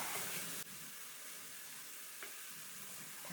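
Sauce for Thai rad na goong noodles with gravy thickens in a pan over high heat, hissing and sizzling steadily, with a couple of faint clicks from stirring. The sound is quiet and heard alone.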